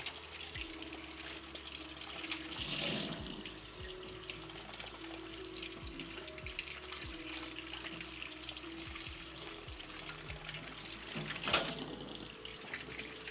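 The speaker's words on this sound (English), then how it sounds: "Now I'm going to dump this tray and rinse it out and refill it." Water runs steadily from a tap as a tray is rinsed and refilled in a home kitchen during cooking, a continuous faint splashing stream with a couple of louder gushes, no talking.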